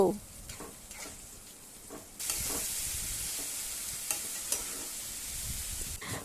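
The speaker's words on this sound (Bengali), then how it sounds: "এবার সব মশলাগুলোকে একটু ভালো করে কষিয়ে নেব।" Spice paste with a little water and sugar sizzles in a pan. A few scrapes of stirring come first, then a louder, steady frying hiss takes over, with occasional clicks of the spoon and no talking.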